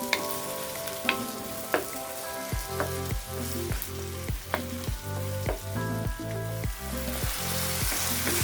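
Tomatoes sizzle steadily in a hot pan while being sautéed, a continuous close frying hiss broken by rhythmic scraping and stirring strokes, with no talking.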